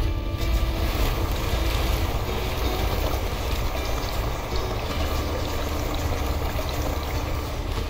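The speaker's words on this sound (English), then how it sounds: "But I need more water. Let's go vacuum it out." A steady, loud rushing whoosh from a water-vacuuming tool in the video game Lightyear Frontier, running continuously without a break, with no voices over it.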